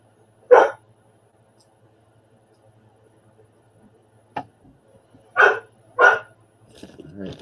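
A dog, Blue, barks once near, then twice more after a pause, with faint movement and a low hum in between and a soft voice or scuffle at the end.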